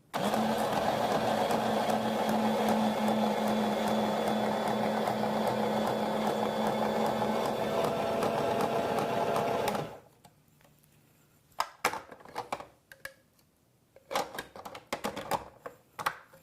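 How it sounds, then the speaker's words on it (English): A Cuisinart SSL-100 Prep Express slicer and spiralizer runs loud and steady for about ten seconds while cutting zucchini into ribbons, a whirring motor hum that stops abruptly, followed by scattered clicks and handling knocks. "now we're going to try doing a little different cut with zucchini"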